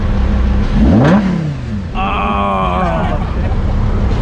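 A Chevrolet C6 Corvette engine revs up with a rising whine, drops back, then holds a higher steady tone over a constant background rumble, parking brake on.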